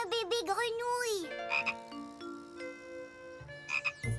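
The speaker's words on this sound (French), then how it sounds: "Un bébé grenouille." A cartoon baby frog croaks in a series of bubbly, warbling calls, followed by bright chiming tones and another short croak, loud and close against a quiet background.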